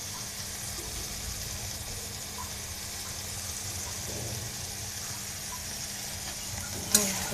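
Chopped chillies sizzle and fry in a pan, giving a soft, steady hiss that runs on throughout. A light clink of utensils comes near the end.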